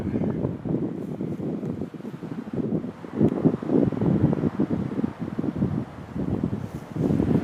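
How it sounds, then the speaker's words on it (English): Shifty wind across a small open pasture on a disc golf course, a steady low buffeting rumble against the microphone, gusting unevenly throughout with no other clear sounds. "Shifty wind over this little pasture here."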